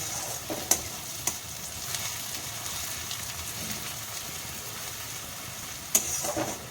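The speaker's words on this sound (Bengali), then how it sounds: "পেঁয়াজগুলো সুন্দর ভাজা হয়েছে" Onions fried to a reddish brown sizzle in a pan, a moderate, even hiss of frying with a few sharp clicks of utensils against the pan and no talk.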